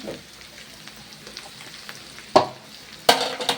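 Okra frying in a pan with a steady, soft sizzle, broken near the end by two sharp spatula clacks against the pan as it is stirred.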